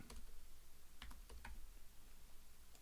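Computer keyboard typing, a few scattered quiet key clicks in short irregular bursts, close and faint with no talking.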